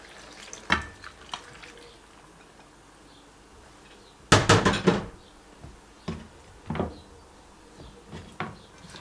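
Celery and other vegetables stir-fried in a pan, sparse scraping and clattering strokes with a louder burst of stirring midway, over a faint low sizzle, near and intermittent with no talk.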